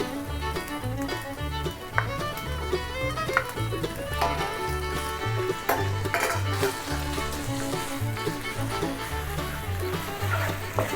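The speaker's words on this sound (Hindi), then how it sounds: "और अब हम इसमें डालेंगे हमारा चिकन मिन्स।" Chicken mince sizzling and frying steadily in a pan with ginger garlic paste, punctuated by regular scraping and stirring strokes of a spatula as it is sautéed, with background music throughout.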